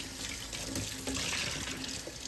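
Tap water runs steadily into a kitchen sink while an electric mini chopper is scrubbed clean with warm soapy water, a close, continuous hiss and splash with no talking.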